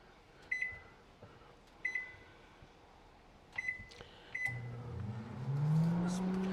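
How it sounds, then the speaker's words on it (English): Several short electronic beeps from button presses, then a steady low hum of a microwave oven starting up and running close by, heating a ranch Hot Pocket. "But I guess I'll microwave this"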